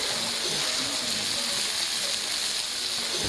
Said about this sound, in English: Yes, that was Chili's sizzling fajita.